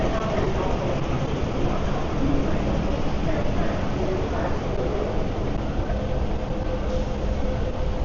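Hong Kong metro train running steadily with a dense, continuous rumble and rattle heard from on board, with faint background chatter.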